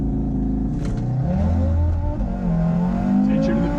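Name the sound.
Audi RS3 accelerating on a drag strip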